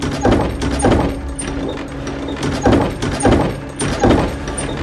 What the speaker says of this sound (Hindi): ऊपर के कमरे का दरवाजा जोर जोर की आवाजें कर रहा था।